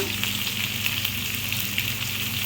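Potatoes frying in hot oil with turmeric paste, a steady dense sizzle that crackles continuously and close up throughout, with no talking.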